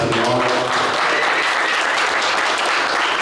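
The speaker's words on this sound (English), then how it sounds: "We obviously going to give him a big round of applause." Loud, packed applause from a crowd at a gym meet-and-greet, a dense unbroken wash of clapping held at full strength for a few seconds.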